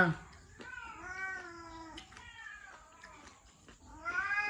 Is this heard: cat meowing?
yes